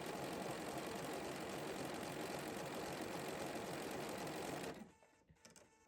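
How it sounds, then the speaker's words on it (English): A sewing machine runs steadily in a straight stitch over a crazy patchwork heart, its motor hum loud and continuous for nearly five seconds before stopping abruptly, leaving faint handling noise. "let's go back to a straight stitch, and we're just going to stitch to this section, pivot around, feather, and follow this one"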